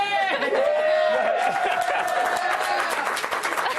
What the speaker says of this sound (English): Even the dead people are clapping.